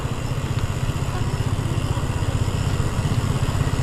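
A motorcycle engine passes along a narrow rural trail, a steady close putter with a pulsing low throb that holds at an even loudness throughout.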